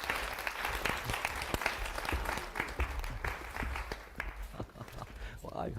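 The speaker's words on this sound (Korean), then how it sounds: "두 분을 박수로 단상해 모시겠습니다" Applause from an audience at a university lecture event, welcoming two professors onto the stage, with scattered claps and shuffling footsteps that rise and dip unevenly, partly mingled with background voices.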